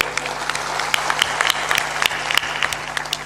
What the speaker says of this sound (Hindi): थोड़ा जोरदार ताली बजाया करो,